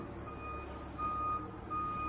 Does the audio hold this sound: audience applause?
no